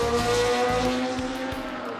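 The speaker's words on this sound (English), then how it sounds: "Sights and sounds on an F1 car, certainly dramatic" Cosworth-powered Minardi Formula One car running on the Swartkops circuit, a loud high-revving engine whine with shifting pitch and brief dips between gears.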